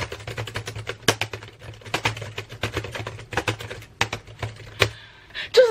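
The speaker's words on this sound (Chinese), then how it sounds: "就是那种在图书馆敲字码字咚大的声音" A computer keyboard is typed on hard and fast, a close run of loud, clattering keystrokes in uneven bursts with a few sharper heavy strikes.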